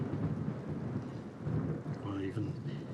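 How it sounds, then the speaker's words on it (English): Thunder from a low-budget space cop film rolls as a continuous dense rumble mixed with rain-like hiss, steady and loud throughout with no clear breaks, and a faint whistling tone briefly surfacing near the end. "Or even some thunder."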